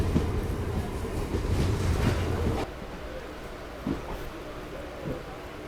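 A MEMU suburban train rolls toward Banasandra railway station, a rumbling rail drone with clattering wheel beats that drops to a quieter, steadier hum partway through as it slows.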